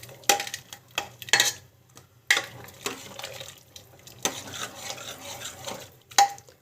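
A spoon stirs and scrapes a pan while sautéing with asafoetida, producing intermittent metallic clinks and scraping bursts separated by quieter gaps under a faint low hum.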